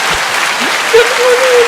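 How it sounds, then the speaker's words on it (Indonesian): Brief applause from an audience at a Surabaya Jersey Community event, a steady wash of clapping with a faint voice sliding in near the end. "Jadi tepuk tangan buat SJJ ya."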